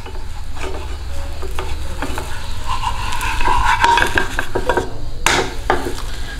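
A parotta cooks on a hot pan with a soft steady sizzle, broken by scraping and the clatter of a utensil against the pan, including one sharp knock near the end.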